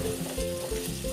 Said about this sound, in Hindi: इसके अंदर हम चने की दाल को डाल देंगे और इसे भी टमाटर के साथ हम भून लेंगे।